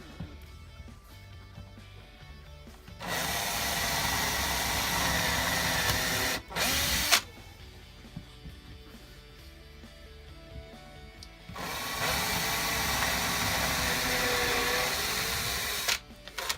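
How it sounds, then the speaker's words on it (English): A power drill bores into the front of a pine furniture piece with scrap wood underneath. Two long, loud, steady whirring runs are separated by a short pause, with quieter handling noise before and between. "And then I will drill."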